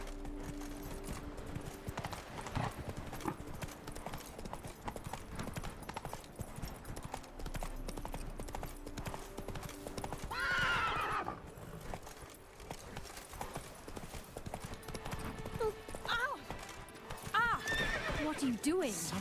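Roach the horse galloping in The Witcher 3, steady rhythmic hoofbeats on and on under game music, with loud whinnies breaking out near the middle and again near the end, and a voice speaking at times.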